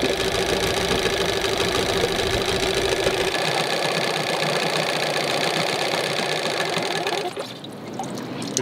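A dinghy outboard engine idles roughly, with a steady, close, knocking chug that runs throughout. Its low rumble thins partway through, and the engine dips briefly near the end.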